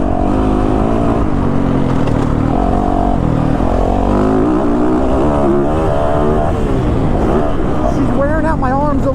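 A 2022 Yamaha YZ450FX dirt bike engine roars loud and close under riding, its revs rising and falling as the throttle works through a dry inside line, with a rider's voice over it.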